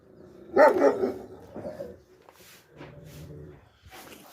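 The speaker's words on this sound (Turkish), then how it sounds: "Bak görüyorsun ya köpekteki hırsa bak." A dog barks aggressively at a farm where camels and sheep are kept. One loud, close burst of barking comes early, followed by quieter, lower sounds and what seems to be a person speaking.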